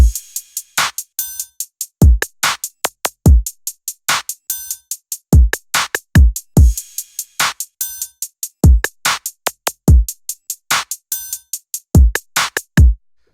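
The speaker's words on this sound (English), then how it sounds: "just a straight trap beat" A sparse trap drum beat with punchy booming kicks, crisp snare cracks and ticking hi-hats in a steady, loud rhythm, no voices.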